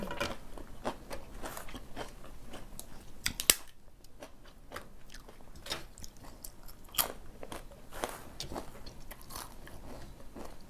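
Crisp crunching bites and chewing of fried dried squid eaten close up, irregular crackly snaps repeating steadily throughout with no talking.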